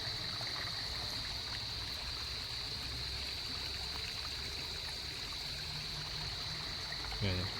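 Water running like a stream across a flooded road near rice paddies, a steady moderate trickling rush throughout, with a faint background tone and a brief bump near the end.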